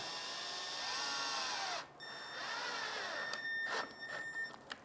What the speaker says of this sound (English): So we'll drive our first screw. I'm using 2-inch construction screws